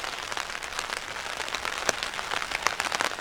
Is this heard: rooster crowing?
no